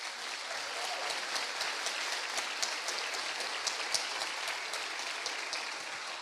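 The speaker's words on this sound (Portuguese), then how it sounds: "Vamos dar uma salva de palmas ao Senhor por eles, gente." A church congregation at a prayer seminar claps steadily, a soft, even wash of applause with scattered sharper claps, heard at a distance and without talk.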